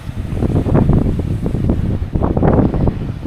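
Strong wind buffeting a microphone by the sea at Porthcawl, a loud low rumbling roar in uneven gusts that continues throughout.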